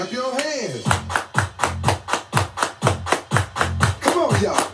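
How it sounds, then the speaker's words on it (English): Hands clapping in a steady, even beat during a children's dance warm-up, roughly a dozen crisp claps about three per second, set over rhythmic music with a chanting voice. "Everybody clap your hands"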